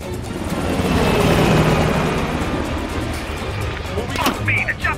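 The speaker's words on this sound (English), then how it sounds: "The chopper got away." Helicopter rotor roar from the Call of Duty: Black Ops Cold War game swelling loudly then slowly receding as it flies away, with a speech-like layer mixed in and faint clanks near the end.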